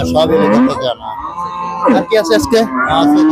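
Cattle low and moo nearby while people talk over them in a busy outdoor cattle market at Betaga, Bangladesh, ahead of Qurbani Eid.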